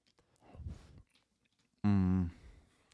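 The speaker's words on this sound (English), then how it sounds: "I like your chewing." Someone chews close to the microphone, a short burst of wet crunching, followed after a pause by a brief voiced hum.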